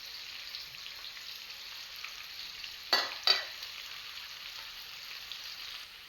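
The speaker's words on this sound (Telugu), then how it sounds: "గోంగూర చిన్నగా కలుపుకుంటూ లో ఫ్లేమ్ మీద ఫ్రై చేసుకుందాం." Gongura leaves fry slowly on a low flame for mutton gongura, a faint steady hiss with two quick stirring scrapes in the middle, close up and quiet, no voices.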